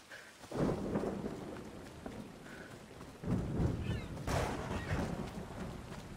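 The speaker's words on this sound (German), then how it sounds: "Und es regnet wieder" Rain hisses steadily in the video game Assassin's Creed Odyssey while deep rolls of thunder swell and fade twice, with a faint tonal chime near the start.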